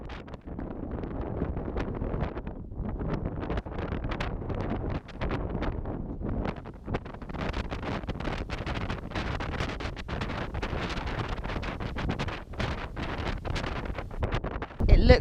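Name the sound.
strong wind while sailing boat drags anchor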